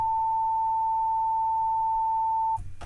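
A steady pure 890 Hz sine tone from a frequency shifter holds at one pitch for about two and a half seconds, then cuts off abruptly into brief low rumbling.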